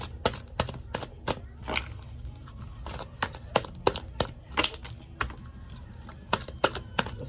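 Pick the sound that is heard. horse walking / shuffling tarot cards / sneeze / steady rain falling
shuffling tarot cards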